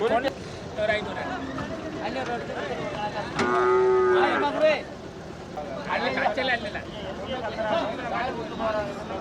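Cattle moo at the Manapparai cattle market, one loud drawn-out bellow in the middle with fainter moos around it, over a busy hubbub of talking people and market noise.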